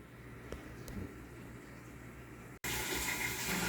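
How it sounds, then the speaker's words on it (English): Carrots are rinsed under a running kitchen tap. The water is a faint, steady trickle at first, then a sudden, louder and fuller gush of running water takes over. "Just wash the carrots here and put them in the bottom of the INSTAPOT here."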